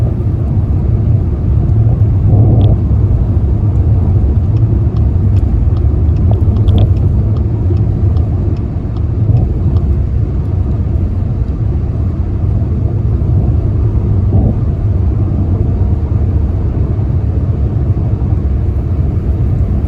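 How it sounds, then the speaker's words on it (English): Interior of a car driving over black ice, a loud, constant low road and engine rumble with faint scattered ticks and small bumps throughout. "Yes, that is black ice I'm driving over."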